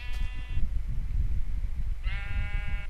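Two close, loud sheep bleats, one at the start and one near the end, are heard over a steady rumble of wind or handling noise, with no talking.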